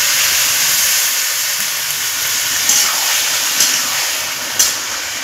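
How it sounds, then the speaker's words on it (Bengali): Water poured into a hot pan of chicken and fried potatoes, giving a loud, steady sizzling hiss that holds for several seconds with a few brief louder spurts, no talking. "এখন আমি কিছুটা জল দিয়ে দেব।"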